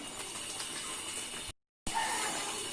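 Water pours and hisses into a pan of cooking spinach for palak paneer, a steady close splashing hiss broken by a brief silent gap before resuming.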